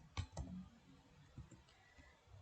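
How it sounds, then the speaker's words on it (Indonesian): Sparse, quiet clicking on a computer keyboard while text is entered in a multimedia design app, with a few separated taps over faint room hiss and no voices. "kita bisa mengetik"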